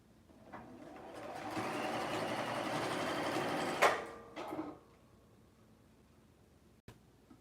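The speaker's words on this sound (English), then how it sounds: "That's why I'm sewing it two separate parts." A sewing machine stitches panels of a homemade dress form in one steady, close whirring run of about four seconds that cuts off, followed by a brief shorter burst and quiet handling noises.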